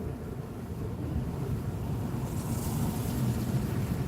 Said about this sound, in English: Can you guys hear the wind?